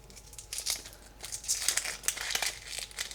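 Onion skin being peeled by hand in a kitchen, close, soft dry crinkling and tearing in a few quick bursts.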